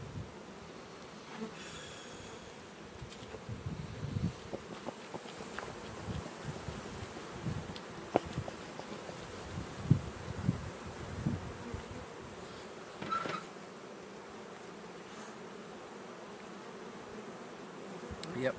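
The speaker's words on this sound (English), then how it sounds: "A box full of bees, I know that." A dense, steady buzz of many bees in a hive box, swarming close by, continuous throughout with a few louder passes and light rustling, no voices.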